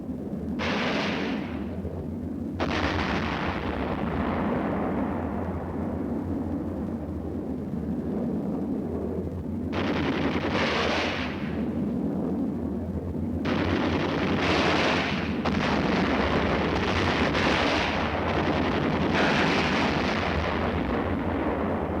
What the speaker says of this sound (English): Command to fire is given, and the crew swings into action.